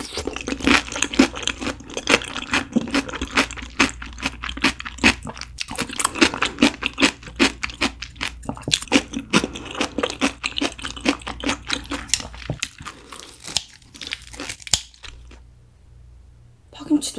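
Close-up chewing and crunching while eating crispy grilled gopchang beef intestines with gat kimchi, steady wet bites and crackles throughout, with a voice talking over it.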